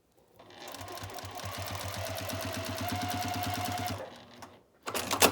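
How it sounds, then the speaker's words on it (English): A sewing machine stitches quilt binding at an odd-angled corner, running steadily for about three and a half seconds with an even mechanical chatter, then stopping before a brief clatter. "Bring it back over here, and I sew again."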